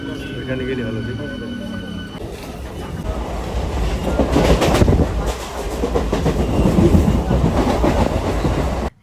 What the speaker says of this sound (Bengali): আমাদের ট্রেন ঢুকে গেল স্টেশনে এবার চলো ট্রেনে উঠে পড়ি